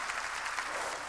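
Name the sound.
applause from church congregation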